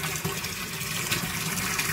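Water gushes forcefully from a pipe under high pressure, a loud, steady rushing spray that continues without break, with no voices.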